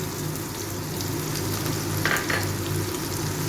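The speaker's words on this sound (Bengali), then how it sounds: "নারকেল কোড়াটা দিয়েও একটু ভালো করে ভেজে নেব।" Grated coconut fries in a pan with tomato and green chilli, giving a steady, close sizzle throughout with a brief louder crackle midway.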